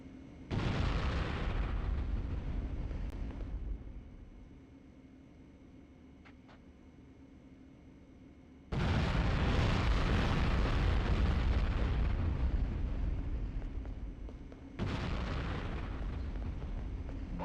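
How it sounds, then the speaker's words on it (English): Loud M67 grenade blasts from the Conflict: Desert Storm training range, arriving as three long roaring bursts with a quieter rumbling tail between the first and second, and no talking. "Use the M67 grenades on the targets and let's see how many you can get"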